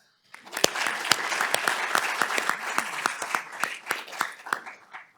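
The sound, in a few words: audience applause for a panel speaker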